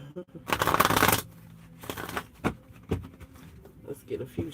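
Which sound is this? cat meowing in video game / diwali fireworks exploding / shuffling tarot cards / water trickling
shuffling tarot cards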